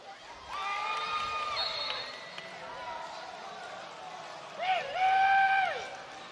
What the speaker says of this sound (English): I love how excited this crowd is.